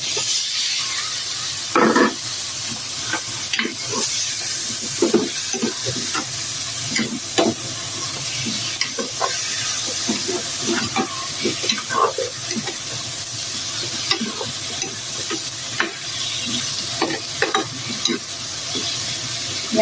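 Food sautéing in a hot pan, a loud continuous sizzle and hiss with frequent clinks and scrapes of a utensil stirring, close up and steady throughout with no talking.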